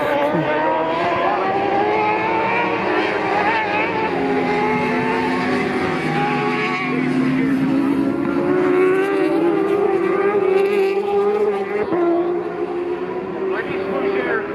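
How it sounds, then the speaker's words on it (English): High-revving racing motorcycle engines at a CSBK Pro Superbike race whine and roar steadily, shifting in pitch as they pass, with a voice faintly underneath. "motorcycle race."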